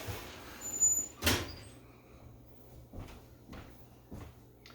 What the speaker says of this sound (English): I'm going to close my oven door.